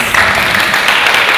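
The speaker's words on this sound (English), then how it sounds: "Can we clap louder than that," An audience claps at an annual international hall ceremony, a dense, steady burst of applause that holds at an even level throughout, with no one speaking over it.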